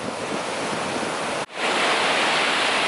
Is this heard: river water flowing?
yes